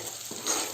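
Onion and tomato paste frying in a pan, a steady soft sizzle with stirring that swells briefly toward the end, close and alone with no talk.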